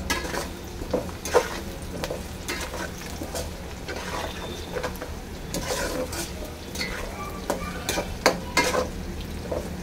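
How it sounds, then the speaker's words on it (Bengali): Raw bay leaves dropped into frying onions in a pan for a village-style country chicken curry, giving a steady low sizzle broken by several sharp clinks and scrapes of stirring. "তো দিয়ে দিচ্ছি কাঁচা তেজপাতা"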